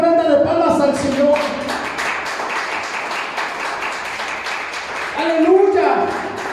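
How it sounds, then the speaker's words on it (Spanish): A church congregation at a Spanish-language service claps together as a palm offering to the Lord, a dense, steady stream of applause with voices calling out over it, loudest at the start and again near the end. "damos ofrenda de palmas al Señor"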